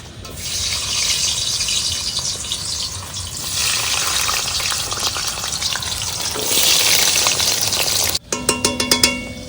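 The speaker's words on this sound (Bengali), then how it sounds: "তেল গরম হয়ে গেছে, আলুগুলো ভেজে নিই।" Potatoes frying in hot oil in a wok, a loud continuous sizzle that swells and shifts as the pieces are stirred, ending with a burst of sharp metallic clinks from the utensil.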